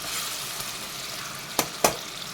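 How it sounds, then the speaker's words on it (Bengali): Onion paste frying in a pan with capsicum and tomato gives a steady close sizzle, broken by two short sharp scrapes of stirring near the end, with no talking. "এবার আমি দিয়ে দিচ্ছি পেট করে রাখা পেঁয়াজ হালকা নাড়াচাড়া করে দিচ্ছি"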